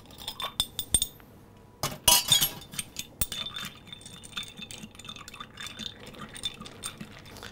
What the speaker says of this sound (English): Few ice cube.